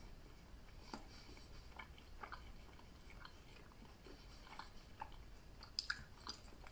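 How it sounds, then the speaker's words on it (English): A piece of beef is chewed during a hot sauce review, a faint, close, soft crunching and mashing with small irregular clicks and no talking. "Chewing on a piece of cow."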